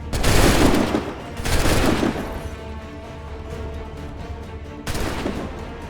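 Volleys of musket gunfire crack out in the Assassin's Creed 3 video game, one burst near the start, a second around two seconds in and a third near the end, with a loud reverberant roar that trails off between them.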